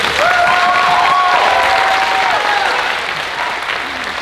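Loud, dense applause for a guest performer at a high school band showcase, with brief whoops rising above it early on, easing slightly in the final seconds.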